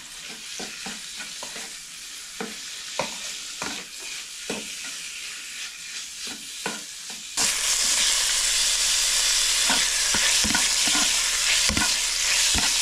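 Ground meat frying in a pan while being stirred, with repeated scraping strokes over a soft sizzle that swells into a louder, steady hiss partway through.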